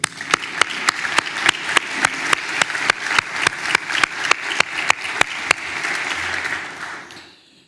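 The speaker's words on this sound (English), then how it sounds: "please join me in expressing our deepest gratitude and a heartfelt round of applause to Julie for everything she has done" An audience at the Luxembourg Capital Markets Day conference breaks into sustained applause, many hands clapping together in a full, even burst that holds steady, then tapers off toward the end.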